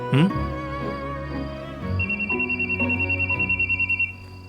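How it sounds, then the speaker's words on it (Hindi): A telephone rings with a fast, warbling electronic trill that repeats steadily for about two seconds, loud over a sustained musical background. "देखो देखो फोन बज रहा है।"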